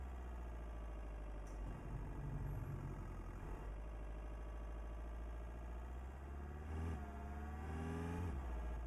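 A Honda Civic engine in American Truck Simulator hums steadily at low revs, rising and falling slightly as it accelerates, with no voices.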